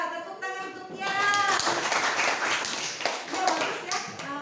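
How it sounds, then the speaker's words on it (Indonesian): A classroom of students claps for a classmate during an Indonesian teaching-practice lesson. A brief voice comes first, then dense, steady hand-clapping fills the room at close range for several seconds. "tepuk tangan untuk Tiara"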